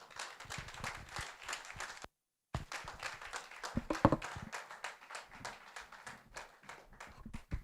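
A live audience applauds after a speaker's engaging, practical talk, a dense wash of many hands clapping that runs steadily, breaks off in a brief gap, then resumes just as full and sustained to the end.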